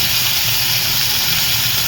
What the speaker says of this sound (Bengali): ওই একই তেলে আমি আলুগুলোকেও ভেজে নেব।